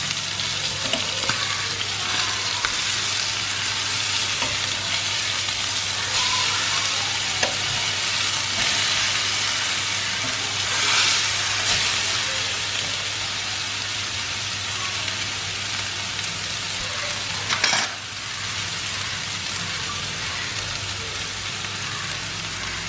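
Fish fries on a tawa with a constant close sizzle and spitting crackle, a dense steady hiss with a few sharper pops, no voices.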